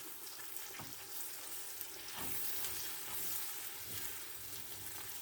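Butter sizzles steadily in a pan of minced meat and potatoes being fried, a continuous close hiss with occasional stirring scrapes and no voices.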